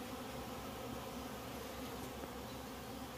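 Robber honeybees swarm around a hornet trap, drawn by its sweet smell, a dense continuous buzzing drone of many insects, steady and close with no pauses.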